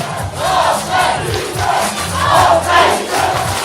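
Football crowd at a Giants Wrocław American football game chanting together, loud and near, with rhythmic rising and falling shouts swelling through the stands.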